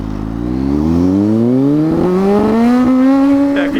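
A Kawasaki Z H2 motorcycle accelerates hard as its traction control cuts in, the engine note climbing steadily in pitch with slight stutters and wavers, loud and close from the rider's position.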